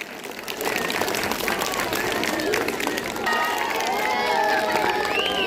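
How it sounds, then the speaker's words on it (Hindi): Loud, sustained applause from a crowd at a school annual day and results ceremony, greeting a top-ranked student, with a steady wash of clapping and murmuring voices throughout. "जोरदार तालियां इनके लिए।"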